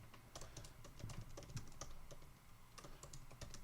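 Quiet, fast clicking of keys on a computer keyboard, a continuous patter of keystrokes at close range with no voices.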